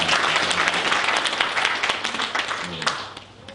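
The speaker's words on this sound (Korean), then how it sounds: "다시 한번 하나님께 큰 영광의 박수를 드리겠습니다." A congregation applauding during a Sunday church service, a loud sustained burst of clapping from the whole room that gradually thins out toward the end.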